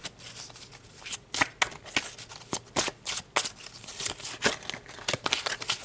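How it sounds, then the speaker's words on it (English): Tarot cards being shuffled by hand at close range, a quick series of crisp riffling bursts and soft slaps in an uneven rhythm, with no voice over them. "these cards just be jumping as I'm trying to shuffle for Leo"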